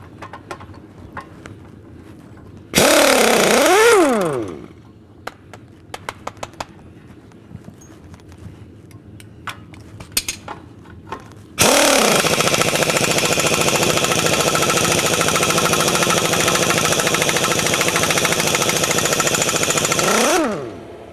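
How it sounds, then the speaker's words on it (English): A power tool removes two bolts holding an attachment in place. It comes as two loud, harsh bursts that rise and fall in pitch: a short one, then a long run of about nine seconds, with scattered clicks and knocks between them. "the first thing we have to do is remove the 2 bolts"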